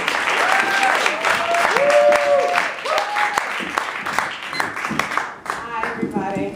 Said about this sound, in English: keep clapping until she gets over here